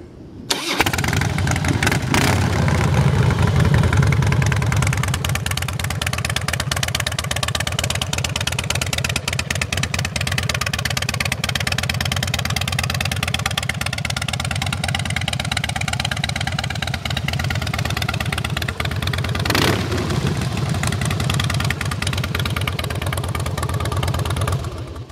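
A 2005 Harley-Davidson Softail Deuce with Martin Brothers exhaust pipes starts up and settles into a loud, steady, close idle. The engine rumbles continuously for about 25 seconds, with a brief throttle blip near the end.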